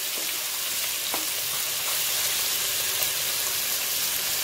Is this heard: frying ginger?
yes